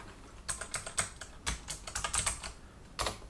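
Keys clattering on a computer keyboard as a website address is typed, a quick uneven run of close, crisp taps with short pauses, fairly quiet and with no talking.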